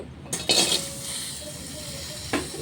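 Bilimbi, green chilies and water go into a cooking pot, with a few metallic clinks and clatters of the pot and utensils at close range over a faint background hum.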